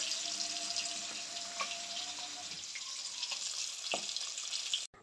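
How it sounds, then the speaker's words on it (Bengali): Fish frying in a pan in a home kitchen gives a steady, close broadband sizzle with faint crackles throughout, and no one speaks. "মাছ ভাজা বসিয়ে দিয়েছি।"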